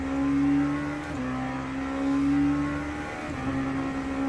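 Racing game cars, including LMP3 prototypes, drone along the Paul Ricard circuit straight, a steady engine hum with a shifting pitch at moderate volume and no talk.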